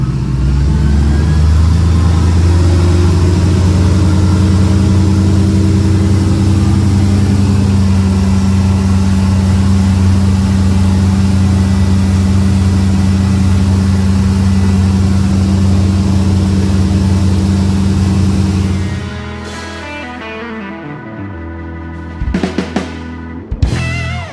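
A 1976 Tripp Angler 22 bass boat's engine runs loud and steady with a deep drone, then drops off sharply near the end as the boat pulls away, leaving brief clatters behind.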